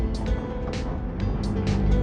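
A 2000 Toyota Soluna GLi, 22 years old with hardened engine mounts, pulls away with a low, steady engine rumble and several short higher-pitched bursts over it.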